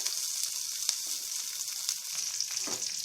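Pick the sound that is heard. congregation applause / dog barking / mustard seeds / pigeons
mustard seeds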